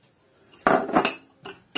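Ceramic dishes clatter and clink as a plate is lifted from a stack in a home kitchen while making pancakes, several sharp knocks in quick succession, close and fairly loud.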